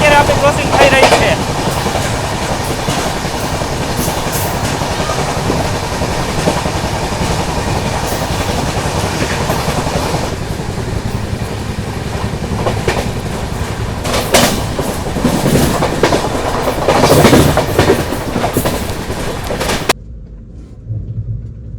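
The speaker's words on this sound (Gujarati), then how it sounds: "અત્યારે બહુ જોરદાર 100+ની સ્પીડે અત્યારે આપણી ક્રોસિંગ થઈ રહી છે" Saurashtra Mail express train passing at over 100 km/h at Bhopalka railway station, a loud, continuous roar and rattle of wheels and wagons that holds for about twenty seconds, then cuts off abruptly, leaving quieter background sound.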